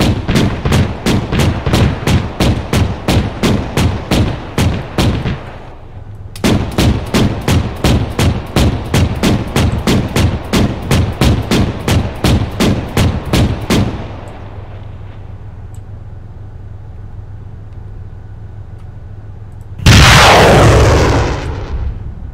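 Rapid bursts of automatic gunfire from Arma 3 play loud and close in two long strings of evenly spaced shots, then a steady engine-like hum holds beneath, ending in a sudden heavy blast.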